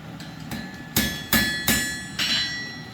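A blacksmith hammers a hot steel upset square corner on an anvil with a light, non-standard hammer: two softer taps, then four sharp, ringing metallic blows spaced about half a second apart, close and loud.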